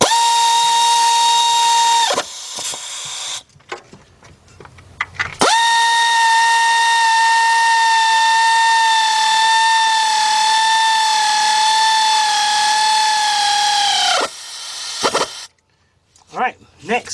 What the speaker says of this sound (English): Now we can just get our 15mm deep with our 3/8 drive air ratchet.